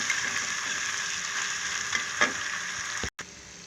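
Mutton pieces and cashews frying in a hot pan give a steady, close sizzle with faint stirring scrapes, briefly cut off near the end before the sizzle resumes.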